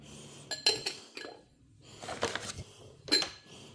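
Glassware and dishes clink sharply in several separate bursts as they are unpacked at home, with rustling handling noise between the close, bright chinks.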